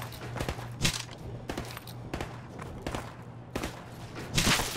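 Knife strikes and melee thuds in Call of Duty 4: Modern Warfare land at a steady rhythm of roughly five or six sharp hits, close and punchy over a low game hum.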